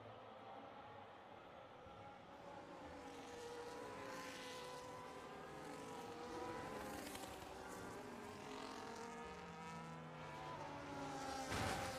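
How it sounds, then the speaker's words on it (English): Several racing cars in a racing video game league race at the Hungary circuit, near a safety car: overlapping engine drones rise and fall in pitch continuously, fairly loud and steady throughout, with no talking. "And Pontic rear-ends the safety car again"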